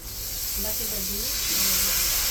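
Steady hiss of water hitting a hot pan of fried turmeric, chili, cumin and mustard paste, close and continuous, with a faint voice-like murmur in the middle.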